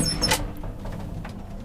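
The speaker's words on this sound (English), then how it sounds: "the basic doors open" Doors of an old Kone traction elevator, a lift about sixty years old in a building in Lahti, open with a short sliding rumble and a sharp opening clunk, followed by faint mechanical noise over a low hum.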